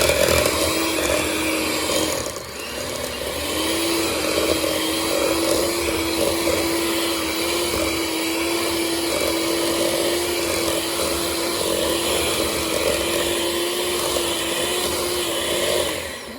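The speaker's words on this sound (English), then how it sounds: "All right, we're gonna blend this up." Hand mixer or blender whirring steadily through a cheddar and cream cheese filling with spice mix and hot sauce for keto shrimp-stuffed jalapeño poppers, loud and continuous with a brief dip near the start, no talking.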